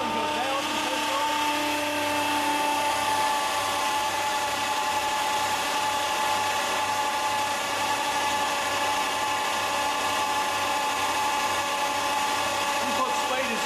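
A hydraulic test rig with a hydrostatic torque converter, or fluid coupling, runs under load at about 2000 RPM, giving a steady, continuous mechanical hum with a faint pulsing undertone, while a person talks over it.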